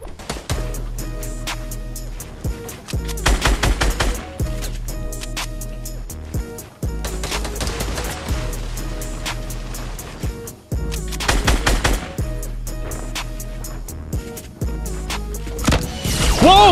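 Rapid automatic gunfire from Fortnite rattles in repeated bursts, loud and close, separated by short pauses across the stretch, with heavier shots near the end.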